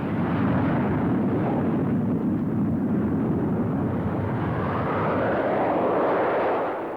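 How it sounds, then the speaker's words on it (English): French Air Force aerobatic team Alpha Jets fly past near the speed of sound, a loud continuous jet roar that swells and shifts in pitch as the formation passes over an air show. "the French Air Force aerobatic team, perform in the Alpha Jet at speeds near the sound barrier"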